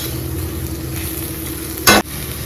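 Chili powder fries in hot oil with a steady, close sizzle, broken by one short louder burst of crackle near the end.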